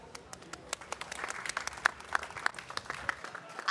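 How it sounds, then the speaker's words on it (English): Audience applause at a climate-action dialogue session, a steady patter of many hands with sharp individual claps standing out, moderately close and continuing throughout without speech. "Give that a bigger round of applause, please."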